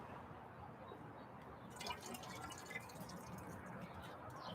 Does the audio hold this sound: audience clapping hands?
no